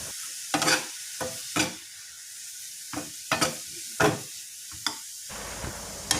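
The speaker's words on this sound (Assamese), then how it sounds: "অলপমান এনেকৈ লৰাই লৰাই থৈ দিম" Tomatoes stirred in a pan while cooking down homemade ketchup, giving intermittent scraping strokes against a low simmering hiss in a quiet kitchen.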